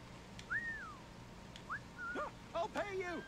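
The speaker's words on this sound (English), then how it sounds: "Oh, let's whistle." Whistling in the pirate game Assassin's Creed IV Black Flag, several short rising and falling whistled notes spread across a few seconds over a low background hum, with brief bird-like chirps mixed in.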